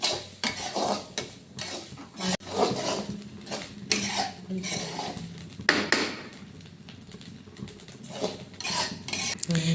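Grated coconut dry roasting in a pan, stirred with repeated scraping and clinking of a spoon against metal, a faint dry sizzle beneath, close and without voices.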